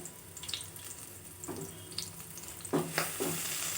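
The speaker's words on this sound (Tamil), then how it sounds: "வாழைப்பு குழம்பு செய்கிறதுக்கு தேவையான பொருளை வதக்குறோம்" Sliced large onion frying in oil in a pan for banana flower curry, a soft close hiss with a few brief bursts of sizzle and stirring, fairly quiet overall.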